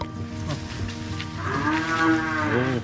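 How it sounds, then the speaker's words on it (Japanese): Cattle kept on a farm on Kuroshima island moo loudly, one drawn-out low call rising and bending in pitch over a bed of steady background noise. "おお、牛が飼われている。"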